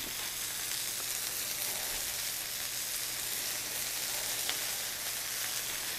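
Sausages and onions fry in oil in a pan with a steady, even sizzle that runs unbroken throughout, close and moderately loud, with no voices.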